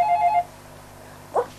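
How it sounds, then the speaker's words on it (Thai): A telephone rings in a Thai drama scene, giving one short, bright electronic trill, then a pause, then a brief faint second burst, close and with no voices. "โทรศัพท์ค่ะโทรศัพท์มาให้ทำไงดีคะ"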